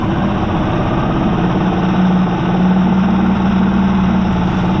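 A rebuilt vintage BSA motorcycle engine runs steadily and loudly up close, a dense low throb that holds an even rhythm throughout with no voices.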